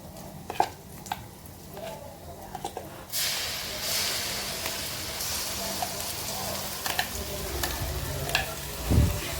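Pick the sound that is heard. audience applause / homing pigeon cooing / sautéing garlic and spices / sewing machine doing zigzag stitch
sautéing garlic and spices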